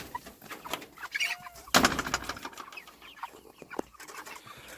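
Chickens clucking and murmuring at close range inside a chicken tractor, with scattered rustling and a sharp knock partway through.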